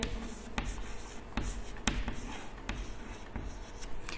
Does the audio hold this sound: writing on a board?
yes